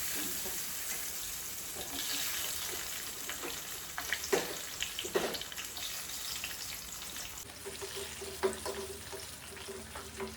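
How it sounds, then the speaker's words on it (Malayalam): Cashew nuts frying in hot oil for a rice-cooker beef biryani, a steady moderate sizzle with scattered crackles and occasional stirring scrapes, louder bursts midway and a softer bubbling toward the end. "നമ്മൾ കുറച്ച് അണ്ടിപ്പരിപ്പ് ഇതിലേക്ക് വറക്കാം"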